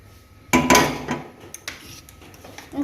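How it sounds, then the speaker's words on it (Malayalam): Chicken omelette batter poured into a hot pan greased with coconut oil: a sudden loud sizzling burst that fades into softer crackling, with a few faint utensil clicks nearby. "ഓംലേറ്റിനുള്ള ബാറ്റർ ഒഴിച്ചു കൊടുക്കുന്നുണ്ട്."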